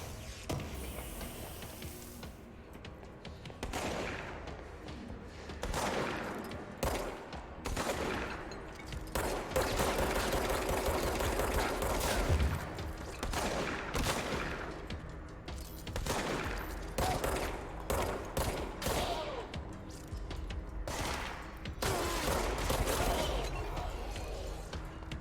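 Repeated gunshots and rapid volleys sound in the video game Control, moderately loud, in irregular bursts spread across the stretch with brief lulls.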